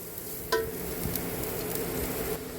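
Carrots frying in a pan give a steady, soft sizzle with a few light stirring clicks, heard close and alone.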